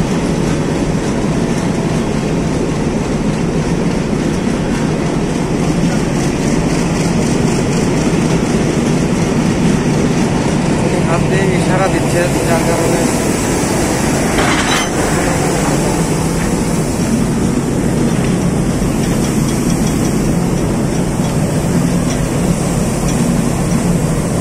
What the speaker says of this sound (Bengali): ধাক্কাটার সাথে সাথে ছেলেটা ঘুরে একটা ক্যাচের মাধ্যমে দুইটা বগিকে অ্যাড করে দিল।